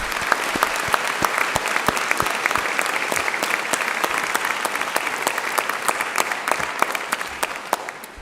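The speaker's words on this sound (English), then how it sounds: "I'm going to suggest that we start with a huge round of applause for everyone who's supported you" A graduation audience for business, law and social science students gives a long, loud round of applause, with dense, steady clapping from a large crowd that holds for several seconds and barely fades.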